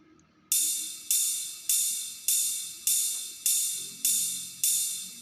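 A ride cymbal rings out in a steady repeating pattern, eight bright strikes about two-thirds of a second apart, each decaying before the next, clear and alone in a music production demo.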